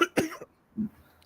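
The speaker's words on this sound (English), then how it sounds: "I was coughing here." A man coughs twice in quick succession, close and sharp, then lets out a softer cough or throat clear a moment later.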